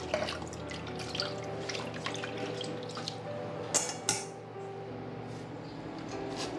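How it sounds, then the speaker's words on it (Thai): Clean tap water runs while food is rinsed in a sink for a Thai glass noodle salad, a soft steady trickle with small splashes and clinks close by. "แล้วก็ล้างออกด้วยน้ำสะอาดพักไว้นะครับ"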